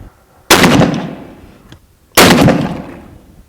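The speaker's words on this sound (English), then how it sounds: "let's shoot another couple and see how it groups" Two sharp gunshots from a Savage 220 at a shooting range, each a loud close crack with a decaying tail, spaced about a second and a half apart.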